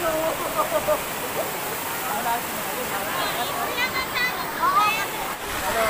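A steady rush of falling water from Pari Falls in Bulacan fills the background while voices talk faintly over it.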